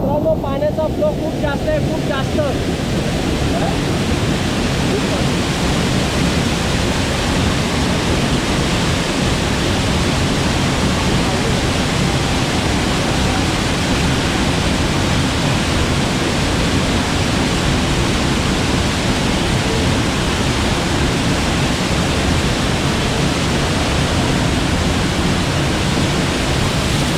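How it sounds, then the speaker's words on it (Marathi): A swollen stream at Gupt Bhimashankar pours in a heavy, continuous roar that stays loud and constant, with wind buffeting the microphone and no voices. "मित्रांनो पाण्याचा फ्लो खूप जास्त आहे, खूप जास्त."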